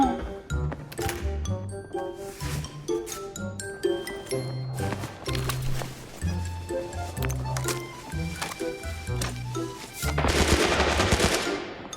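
Rapid bursts of gunfire in the video game Arena Breakout crackle repeatedly over a layered mix of game effects, with dense automatic fire and a louder barrage near the end.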